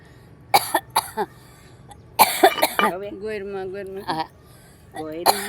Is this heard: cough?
yes